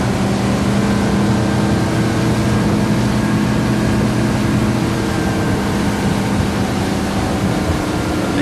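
A Sea Ray Sun Sport 250 motorboat runs at just over 3000 RPM and about 40 km/h, giving a loud, steady, unbroken engine drone with wind and water noise throughout.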